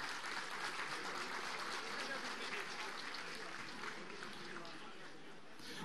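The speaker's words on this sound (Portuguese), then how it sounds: "Uma salva de palmas." Faint, continuous clapping from a crowd gathered at an outdoor pro-democracy rally, a distant, steady patter of applause that holds evenly throughout.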